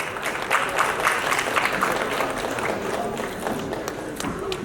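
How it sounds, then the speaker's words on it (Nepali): An audience applauds at a film development board award ceremony, a steady wash of clapping from a crowd that holds at an even level throughout. "जोरदार ताली उहाँहरू सम्पूर्णको लागि।"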